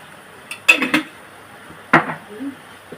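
A spoon clinks against a bowl while mixing egg bhaji batter seasoned with kitchen king masala and salt. Two short bursts of rapid clinking come close up with quiet gaps between them.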